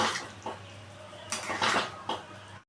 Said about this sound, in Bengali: এবার আমি এই পকোড়াগুলোকে দিয়ে দিচ্ছি। দিয়ে ভালো করে আমি মিশিয়ে নিচ্ছি।